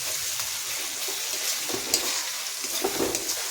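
Hot oil sizzles in a pan while being stirred, a soft, steady crackling hiss with a few light scraping taps, close but fairly quiet.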